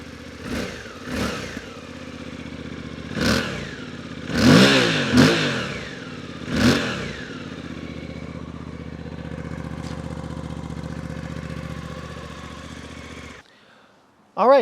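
A 2023 Suzuki V-Strom 800DE motorcycle pulls away through a series of sharp revving surges and gear changes, settles into a steady cruising drone, then cuts off abruptly near the end.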